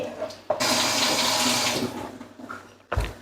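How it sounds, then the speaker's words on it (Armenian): Water is poured into onions frying in a home kitchen pan, setting off a loud burst of hissing sizzle that lasts about two seconds, fades, and ends with a short knock. "Մի փոքր ջուր լցնեմ սոխառածին"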